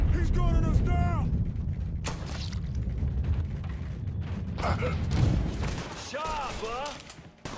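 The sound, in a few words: gunfire in the video game Mafia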